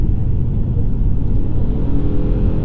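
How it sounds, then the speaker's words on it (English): A 2022 Ford Maverick pickup accelerates at full throttle, giving a steady, loud low engine drone with a slowly rising whine, heard from inside the cabin without a break. "This does continue to accelerate for a while, though. I mean, it does just keep on pulling"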